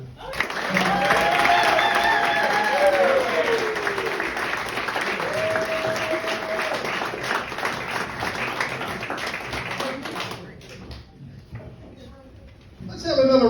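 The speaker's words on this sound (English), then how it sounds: "put your hands together and give a real warm welcome to Bob Carver" Audience applause welcomes comedian Bob Carver at a comedy show, with sustained clapping and crowd noise under talk and background music, fading away near the end before a brief burst of sound.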